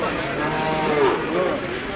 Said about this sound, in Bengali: চিকনাগুল গরুর হাট